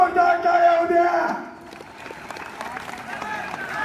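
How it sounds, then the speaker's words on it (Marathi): Kabaddi championship crowd at an All India Railway vs Navy match in Mumbai, first a loud roaring shout from many voices, then it drops into scattered clapping and crowd noise. "एकदा जोरदार टाळ्या उद्या"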